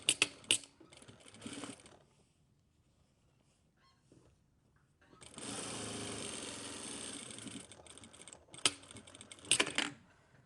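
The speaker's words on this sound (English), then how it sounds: "And just the width of the foot, you can do an edge stitch." A sewing machine runs an edge stitch along a flap and spade pocket, with short bursts of stitching, a quiet pause, then a longer steady run of whirring needle clatter and a few clicks near the end.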